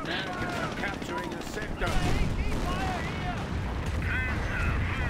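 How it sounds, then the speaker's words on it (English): Calliope rocket artillery fires in a World War II video game match, a dense rumbling barrage of blasts and crackling impacts under a busy battle mix, with a voice talking over it. "look at this Calliope fire"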